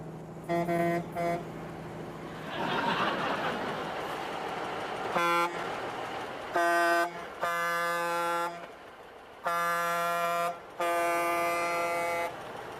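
A 10-ton truck sounds its horn in repeated long blasts of varying length, loud and close, over a steady engine rumble that surges between honks.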